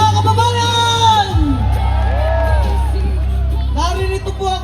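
Rally crowd at Liwasang Bonifacio cheering and shouting, loud whoops and rising yells over a constant crowd roar, close and sustained.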